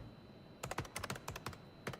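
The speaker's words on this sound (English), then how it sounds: "keyboard presses. Yeah, that's all in-game." Crisp in-game keyboard key clicks from a video game, a quick irregular run of about a dozen close taps starting after a brief quiet moment, bright and distinct.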